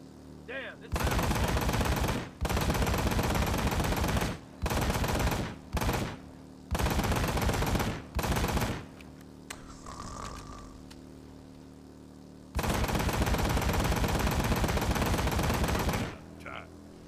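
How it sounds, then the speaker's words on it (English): Gunfire in the motorcycle video game Ride to Hell: Retribution, long sustained bursts of loud rapid automatic shots separated by short pauses, with a quieter gap in the middle where faint game sounds and a voice come through. "I'm really putting a lot of bullets into this guy."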